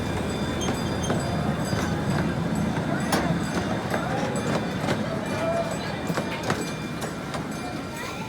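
A gas-powered CP Huntington replica zoo train, running as the Potawatomi Zoo Express, rolls back into its station with a steady mechanical rumble and clatter, a few sharp clicks and knocks along the way, and faint voices in the background.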